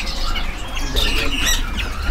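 A caged robin at a busy bird market squawks in harsh, rasping cries set against a thick, constant din of other birds and stall noise.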